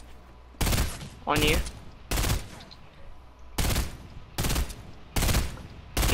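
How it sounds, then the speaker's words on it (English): Video game gunfire comes in six short, loud bursts spaced roughly evenly, with brief quieter gaps between them and a voice speaking briefly during one gap. "There's a kid shooting my base down."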